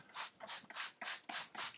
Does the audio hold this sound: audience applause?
no